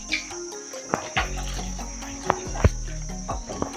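Crickets chirp in a steady high-pitched shrill at night near a room in Krabi, Thailand, with intermittent clicks and light background noise.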